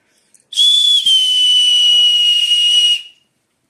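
A loud, shrill finger whistle holds steady for about two and a half seconds with a brief break near the start, then cuts off into silence.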